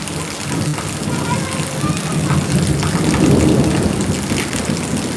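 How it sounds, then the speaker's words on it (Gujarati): Steady heavy rain in Surat hisses and drums close by, with a low rumbling swell building toward the middle. "સુરતમાં આજે વરસાદ શરૂ થઈ ગયો છે"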